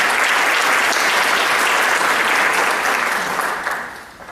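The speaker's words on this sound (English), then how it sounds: "Give her a hand of applause" Loud, sustained applause fills the room at a community health awards ceremony, a dense wash of many hands clapping close by that tapers off near the end.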